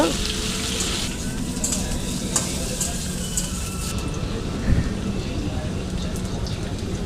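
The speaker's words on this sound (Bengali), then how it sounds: "আলু আর কাটি কচুটা ভালো করে ভেজে নেব। বেগুন দিয়ে দেবো, বেগুন দিয়ে একটু ভালো করে ভেজে নেব।" Potatoes, taro and eggplant frying in oil in a pan give a steady, dense sizzle throughout, with a faint knock partway through.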